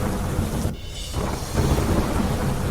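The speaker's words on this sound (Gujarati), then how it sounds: "મોડાસા શહેર, ગ્રામ્ય વિસ્તારમાં ધોધમાર વરસાદ ખાબક્યો." Heavy monsoon downpour with thunder over Modasa town and its rural area in Aravalli, Gujarat, a steady loud hiss of rain with deep rolling rumbles and no voices.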